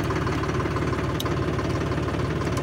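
A valve-type tractor engine idling at close range, a steady loud low rumble with even knocking pulses throughout and no talk.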